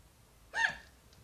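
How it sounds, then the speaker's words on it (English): A single sharp hiccup, a short voiced squeak with a quick pitch jump, close and alone in quiet surroundings. "I have the hiccups."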